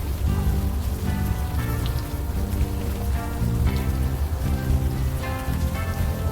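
Steady rain falls in the video game Unavowed, a constant hiss with soft patter, while a tonal music bed plays underneath throughout.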